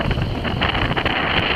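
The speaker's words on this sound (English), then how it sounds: "we're in quite a juicy gust of wind" Strong wind gust buffets the microphone aboard a reefed Rob Roy 23 sailboat heeled over on Lake Murray, a loud steady roar with rushing water noise beneath it and no speech.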